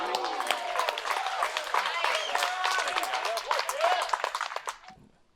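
A large crowd at a disc golf tournament cheers and claps continuously for an approach shot, a loud dense roar with scattered shouts that fades out at the end.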